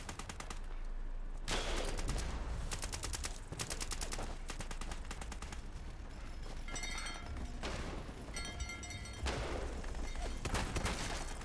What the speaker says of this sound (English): I hear explosions.